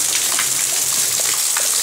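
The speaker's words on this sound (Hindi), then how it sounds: "मैं आपको दिखा रहा हूँ कैसे हो रही है जोर की बारिश" Heavy rain pours down in a dense, steady hiss with scattered drop patter, loud and continuous throughout.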